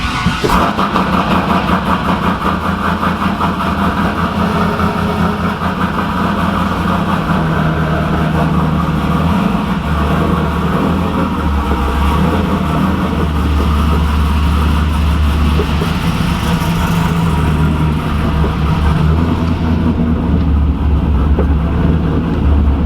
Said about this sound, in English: Go ahead and get the car pulled out here.